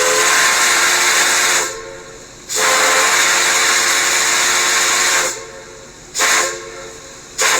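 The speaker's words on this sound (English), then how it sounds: "All units most likely had Maine Central 3-chime whistles" A Maine Central 3-chime steam locomotive whistle sounds three loud, close blasts. The first two are long and the last is shorter, each a rich, steady chord with short hissing gaps between them.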